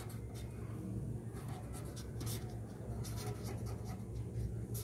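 Pen or marker writing a sphere surface-area formula on a board during a maths lesson, a steady scratchy stroking that runs throughout over a low background hum, with no talk.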